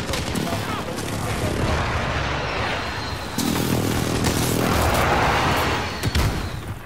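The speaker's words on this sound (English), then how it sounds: "Be advised, friendly precision airstrike inbound." Precision airstrike explosions in Modern Warfare fire as a dense, continuous barrage of loud booms and blasts, with a sharp jump in intensity midway and gunfire cracks layered on top.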